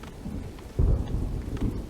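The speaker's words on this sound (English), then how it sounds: "Oh my god! It's raining." Rain pours steadily in the video game Farthest Frontier while a heavy rumble of thunder swells up midway, then a smaller roll follows near the end.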